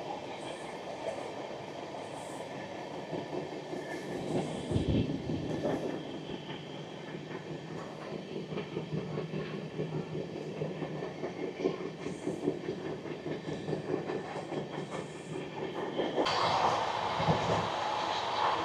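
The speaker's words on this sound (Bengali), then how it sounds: "ট্রেনটি এখন 104 কিলোমিটার গতিবেগে ছুটে চলেছে।" A Malda Town–Gomti Nagar Amrit Bharat Express rumbles along steadily at 104 km/h, with continuous wheel and carriage noise, faint rhythmic clatter and occasional higher squeals, no voices.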